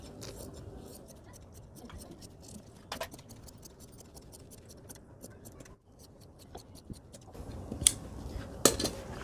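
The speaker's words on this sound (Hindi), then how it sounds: "अब जो है इसको काट लेते हैं बैक को।" Scissors snip through shirt fabric while the back piece of a gents' shirt is cut out, giving quiet, crisp, irregular clicks that grow louder near the end, with faint background sounds.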